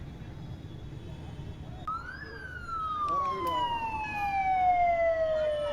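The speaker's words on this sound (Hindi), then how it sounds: "मौके पर दमकल की गाड़ियां मौजूद हैं और आग बुझाने का काम किया जा रहा है" Emergency siren from fire engines responding to a blaze at a construction company's office, starting partway through and wailing in a long falling sweep over street noise, moderately distant.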